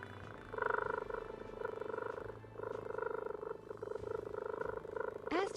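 A cat purrs steadily in low, rhythmic rumbling waves close to the microphone, pausing briefly between breaths, with a short sharper sound at the very end.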